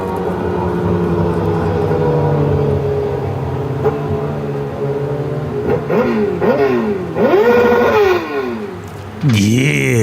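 Car engine revving repeatedly in rising and falling sweeps, playing back loud over a steady idle, one of two cars with a yellow headlight, with a final sharp rev at the end.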